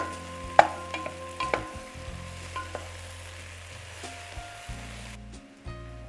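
Mushrooms sautéing in a pan give a steady close sizzle, with a few sharp clicks and scrapes as they are stirred and no voices.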